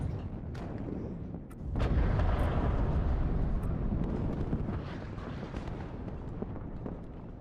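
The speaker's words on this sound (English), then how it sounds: "Ah, the fuel explosion." A fuel explosion in the WARNO war game lands as a deep, heavy boom after a brief lull, then a long rumbling roar that slowly fades under scattered crackles and distant thumps of battlefield fire.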